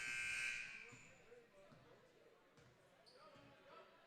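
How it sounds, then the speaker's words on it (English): A shrill referee whistle or buzzer tone rings out at the start of a high school basketball game, then fades into faint gym noise. "We had an inadvertent whistle or a buzzer again."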